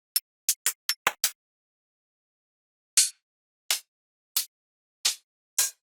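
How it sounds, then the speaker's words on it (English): Closed and open hi-hat samples from a dance music sample pack: six quick, crisp closed ticks in a rapid burst, then after a pause five longer, sizzling open hats spaced evenly, loud and isolated. "15 closed hi-hats and 15 open hi-hats."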